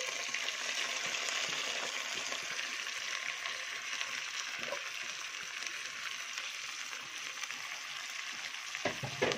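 Washed, drained rice frying in hot ghee, a loud steady crackling sizzle with soft stirring scrapes throughout, close and continuous with no talk.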